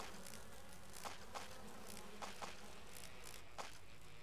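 Bees swarming in the Resident Evil Remake video game, a steady insect buzz hanging over background noise, with brief sharper ticks rising out of it every so often.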